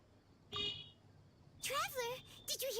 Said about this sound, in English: There was definitely a beep